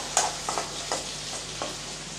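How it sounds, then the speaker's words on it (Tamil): Potatoes frying in oil in a pan, a soft steady sizzle under a few scattered scraping stirs, fairly quiet and close, with no voices. "இப்போ எண்ணெயிலே நல்லா இது வறுபடட்டும்"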